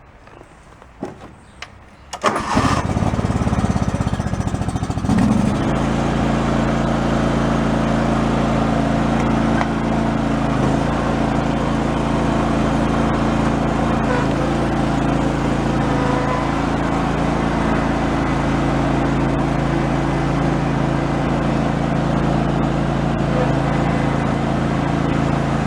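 A John Deere lawn tractor engine, fitted with a new fuel pump to cure flooding, catches after a few clicks and then runs at a steady, loud, droning idle up close for the rest of the time.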